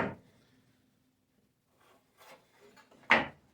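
A wooden kitchen cabinet drawer is pushed in on its slides: a soft scrape at the start, then faint sliding rattles and a sharp closing knock near the end, close and quiet.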